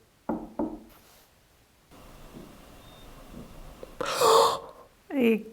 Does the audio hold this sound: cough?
no